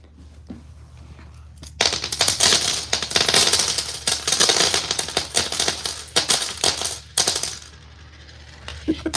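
Rolls of nickel coins poured out in a dense, loud cascade of clinking and rattling metal that goes on for several seconds, then thins into scattered clatters as the coins settle.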